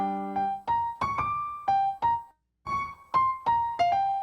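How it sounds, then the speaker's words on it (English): Duke Ellington's swing classic "It Don't Mean a Thing" played as a short, clear melodic phrase of distinct sustained notes with small gaps, up close, no voices. ""It Don't Mean a Thing If It Ain't Got That Swing." This is a classic song by Duke Ellington"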